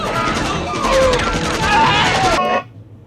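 Movie gunfire from an 1980s ninja action film plays as a dense, continuous burst of overlapping shots and impacts mixed with score, cutting off abruptly near the end.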